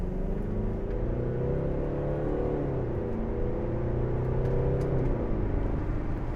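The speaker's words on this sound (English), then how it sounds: "then we'll give it some gas" A 2012 Mercedes-Benz SLK250 CDI with a 2.1-litre diesel engine accelerates, its engine note climbing steadily in pitch and holding a loud, continuous drone from start to finish, with no talking.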